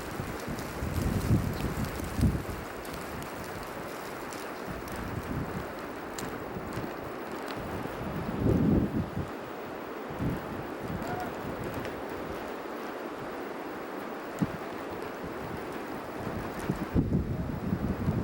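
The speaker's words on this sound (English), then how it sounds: "The wind is still gusting." Gusting wind during the 1993 blizzard in Tucker, Georgia roars steadily across the microphone near a lake, rising into stronger buffeting bursts every few seconds over a constant whooshing bed.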